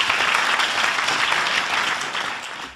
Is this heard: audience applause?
yes